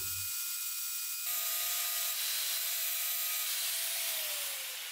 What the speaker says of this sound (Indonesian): maka akan kita ratakan menggunakan mata gerinda